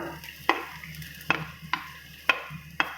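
Ginger dropped into hot leftover oil in a pan for gooseberry pickle, stirred with several sharp scraping strokes at a steady pace over a constant close sizzle.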